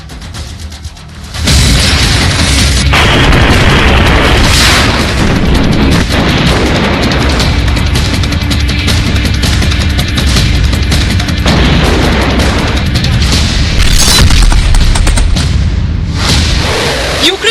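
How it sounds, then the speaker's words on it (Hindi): Loud, sustained booming and rumbling from bombs dropped by Russian fighter jets and helicopters in air strikes on Ukrainian cities, opening quieter and then surging into continuous heavy blasts with sharper bursts around the middle and near the end. "रूसी लड़ाकू विमान और हेलीकॉप्टर लगातार बम गिरा रहे हैं"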